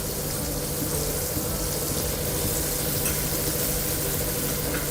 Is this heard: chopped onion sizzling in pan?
yes